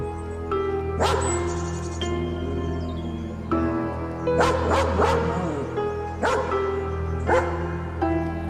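A dog indoors leaps up and barks loudly at a corner of a room, delivering several sharp, close barks in irregular bursts with short whimpering yips between them.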